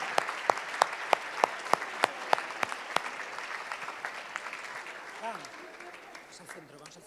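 An audience applauds a champion on a main stage, starting with a few sharp, distinct claps that swell into a scattered round of applause and then fade.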